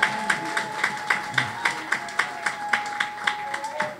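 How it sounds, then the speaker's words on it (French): A church congregation claps in a steady, quick rhythm of sharp, evenly spaced hand claps, with a sustained tone held underneath throughout. "Et applaudis pour Dieu parce que tu as la Bible."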